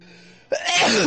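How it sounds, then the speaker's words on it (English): A single sharp, close sneeze bursts out after a short quiet breath, loud and alone with no talking. "Bless you."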